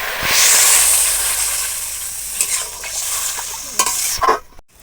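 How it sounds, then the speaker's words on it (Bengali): Loud, close hissing and sizzling as water is poured into a hot pan of prawn curry, settling into bubbling with a few clinks of a utensil. "ঝোলটা খুব ভালো করে ফুটছে"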